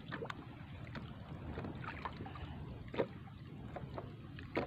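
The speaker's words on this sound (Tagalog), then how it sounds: "lumalakas ng hangin mga idol." Strong wind gusting at sea around a small fishing boat, a constant rushing buffet with a few sharper bumps and knocks, fairly faint overall.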